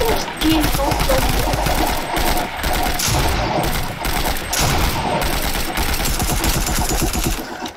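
SMG fire in a first-person video game, loud bursts of rapid shots repeating through the stretch with short breaks, with a voice talking underneath.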